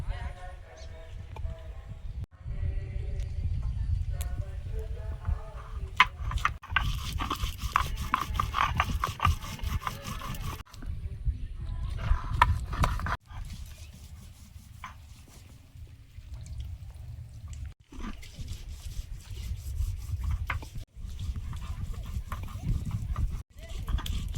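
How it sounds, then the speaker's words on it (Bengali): Cumin, garlic and dried chilli are ground on a flat stone slab with a stone roller, producing rhythmic rough rubbing strokes in bursts with short pauses, close by, with a voice speaking briefly at the start. "জিরে, রসুন আর শুকনো লঙ্কা শিলপাটি বেটে নেব।"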